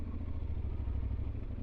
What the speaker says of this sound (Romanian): să vedem cum ne strecurăm în oraș cu această motocicletă.